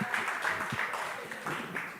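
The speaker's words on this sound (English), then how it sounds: "A very loud round of applause." Audience applause at an International Day for the Elimination of Racial Discrimination event, thanking a group of drummers, a brief wash of clapping with a hint of voices mixed in.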